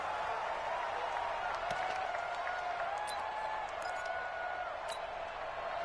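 Stadium crowd in a Madden NFL game between the Indianapolis Colts and Tennessee Titans, a steady roar of cheering and applause that holds at an even level throughout, with no one talking over it.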